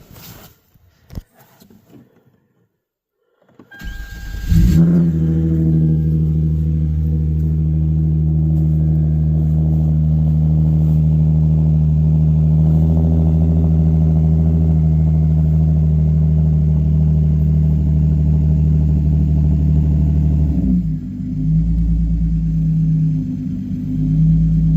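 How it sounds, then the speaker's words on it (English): Hyundai Genesis Coupe cold start: after a few faint clicks, the engine catches loudly around four seconds in and settles into a steady, close idle, with a slight dip in tone near the end. "Let's do a cold start."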